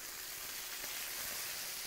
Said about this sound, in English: It's sizzling like a motherfucker.